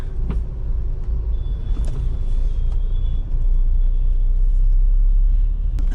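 A car rolls along a street with a steady, loud road rumble and engine drone, and a tyre rides up over a gutter edge partway through, marked by a couple of brief knocks. No one speaks.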